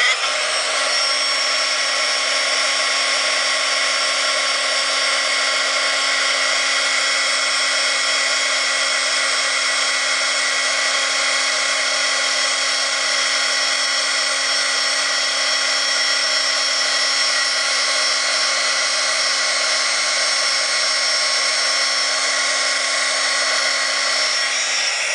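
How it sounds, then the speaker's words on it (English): A craft heat gun used for heat embossing blows a steady, loud whirring hiss with a constant motor whine, running unbroken for the whole stretch without talk. "And then I'll just get my heat gun out."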